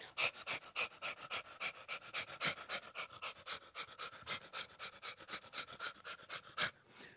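A person imitates a dog panting with rapid, rhythmic breathy huffs, around three or four per second, sustained and close for several seconds with no talk.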